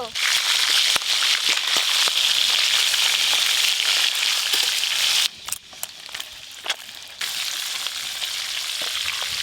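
Chicken sizzles loudly as it is lightly fried in a pan, with occasional crackles and stirring, then the frying drops quieter partway through, with scraping clatter.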